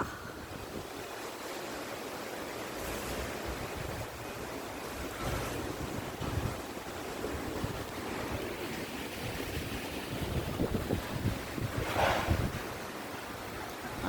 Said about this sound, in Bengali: ও ঝড় উঠে গেছে, ঝড়। যাই আমি এখন ছাদের থেকে পালাই। ও ঝোড়ো হাওয়া।